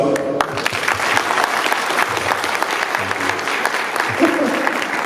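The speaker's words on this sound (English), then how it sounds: "Round of applause." Audience applause at a Comic Con panel in Romania, a dense steady patter of many hands clapping throughout, with faint voices underneath.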